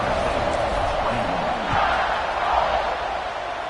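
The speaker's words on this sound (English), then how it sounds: "this crowd is buzzing after that last score" A stadium crowd in the NCAA 26 college football video game keeps up a steady, broad roar after a score, with a commentator talking over it.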